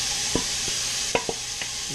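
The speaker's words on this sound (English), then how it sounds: "Let that fry up and start mixing it." Lumpia frying in olive oil in a pan, a steady soft sizzle with a few light scrapes and taps of stirring scattered throughout, close and moderately quiet.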